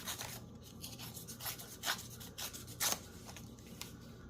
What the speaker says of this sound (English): All right, let's just tear.